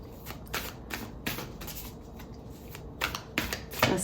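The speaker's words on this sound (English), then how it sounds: "I'm going to pull one more card from this deck." An oracle card deck shuffled by hand, a run of quick riffling flutters and soft slaps in bursts, close and clear, with no talking.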